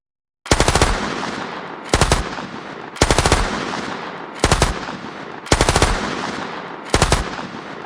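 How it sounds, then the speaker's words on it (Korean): Bursts of automatic gunfire in a battle scene, a soldier shooting wildly at a warship from the sea. Six loud, close rapid-fire volleys are separated by short pauses, with no voices. "가지고 있던 총을 마구 쏘며 전투함을 향해 무의미한 발악을 했다"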